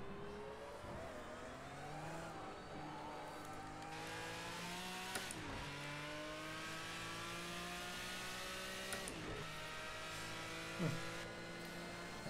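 Race car engine in the racing game Forza, set around Le Mans, revving steadily with rising and falling harmonic sweeps through gear changes, loud and continuous with brief sharp transients.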